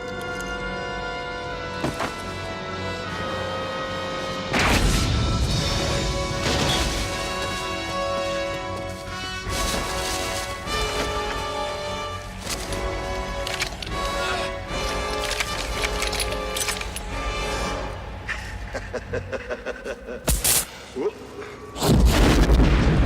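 A grenade explodes in the 1993 action film Hard Target, with heavy booms and crashing blasts breaking through a dense, loud film soundtrack of music and effects.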